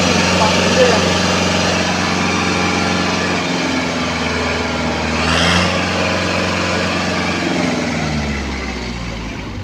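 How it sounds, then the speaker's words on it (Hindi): A Kubota tractor engine runs at full throttle at the Agro Bihar 2023 agricultural fair, giving a loud, steady, close drone that holds for the whole stretch with only slight swells. A voice may be faintly present underneath. "ट्रैक्टर में बिल्कुल वाइब्रेशन नहीं है, ट्रैक्टर चल रहा है, फुल एक्सीलेटर में है"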